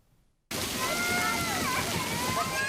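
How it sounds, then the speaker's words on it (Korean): Water from a full tub pours out like a waterfall onto people at a summer water play spot. After half a second of near quiet it bursts in as a loud, steady rushing splash, with excited voices faintly audible through it. "통에 가득 찬 물이 폭포수처럼 쏟아지자 즐거운 비명이 터져나옵니다."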